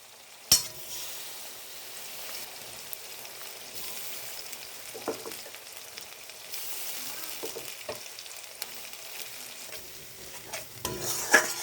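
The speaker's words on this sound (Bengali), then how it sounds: "মশলাটা ভালোভাবে কষিয়ে নেব।" Spices with ginger-cumin paste, chilli powder, turmeric and salt frying in a pan for a raw banana kofta curry, a soft continuous sizzle broken by occasional scraping stirs and utensil knocks, quiet and close.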